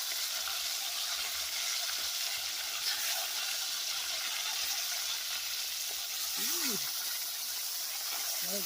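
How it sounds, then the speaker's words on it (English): Pork dropped into a hot pot in a Jamaican country kitchen, giving a steady, bright, hissing sizzle that runs the whole time, with brief speech partway through. "So you guys, the pot hot. So we are gonna put in with pork."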